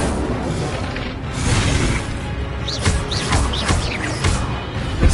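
An Incendio fire spell cast in Hogwarts Legacy gives a deep whooshing burst and crackle that swells, then further bursts and pops follow in close succession.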